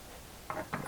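A wrench snugs up the engine mount bolts on a Mercruiser 1 Alpha, giving two or three quick ratcheting clicks close by against a quiet background.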